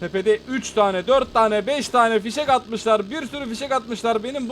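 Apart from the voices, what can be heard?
No distinct noise like a dog, phone or traffic.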